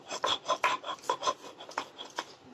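Garlic, dried chili and salt are ground together on a stone grinding slab, giving a rhythmic series of close, gritty rasping strokes, about a dozen in quick succession.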